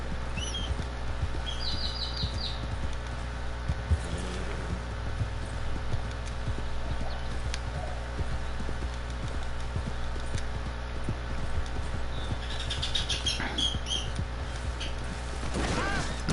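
Horse hooves clip-clop at a steady gallop in Red Dead Redemption 2, a continuous rhythmic patter over a constant game ambience with faint bird chirps and no talk.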